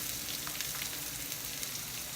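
Red onions fry in hot oil for pansit palabok, making a continuous, even crackling sizzle that stays close and steady throughout, with no voices.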